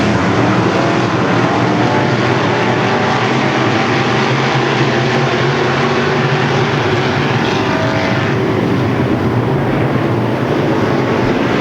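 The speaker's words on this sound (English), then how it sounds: "Green flag is out, 20 laps the distance, 24 cars taking the green." Two dozen Midwest Modified race cars roar away at the green flag of a 20-lap feature at Ogilvie Raceway, a loud continuous engine drone that stays steady throughout.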